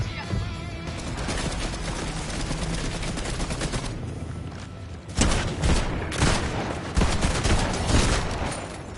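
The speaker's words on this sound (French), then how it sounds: "Il me tire." Gunfire in the video game Fortnite, a dense, loud burst of rapid shots that runs without a break, pauses briefly, then picks up again with sharp cracks and booms.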